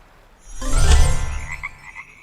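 Frogs croaking as a sound effect in a children's Bible story about the plague of frogs, a loud, close swell of throaty croaks that rises and fades over about two seconds, with no talk.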